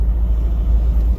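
Steady low road rumble of cars passing by nearby, a continuous traffic drone with no talking.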